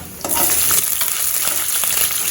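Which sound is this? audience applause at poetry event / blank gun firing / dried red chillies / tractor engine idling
dried red chillies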